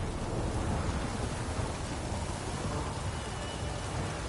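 Steady, dense rain noise in The Witcher video game, a heavy downpour hissing continuously with no break or voices.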